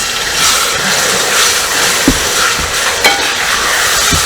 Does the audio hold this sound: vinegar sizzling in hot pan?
yes